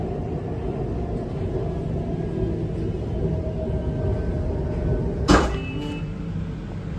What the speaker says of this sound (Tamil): அந்த பக்கம் ஒரு வண்டி பேரலல் அரைவலுங்க.